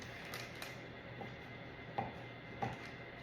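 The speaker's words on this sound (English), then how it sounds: "And cut this cookie dough up." A knife chops through Oreo cookie dough on a cutting board for ice cream, landing a few sharp, separate strikes at an uneven pace over a steady low background hum.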